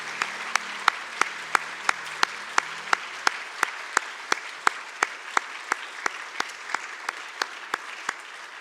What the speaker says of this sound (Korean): 우리 박수로 이분들을 축복해 주시면 감사하겠습니다